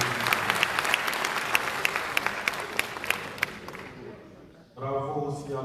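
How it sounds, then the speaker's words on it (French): Sustained applause from an assembly at the opening of a national council session, dense and steady clapping with a few sharper claps, fading out before a voice resumes speaking. "Je vous demande de les applaudir."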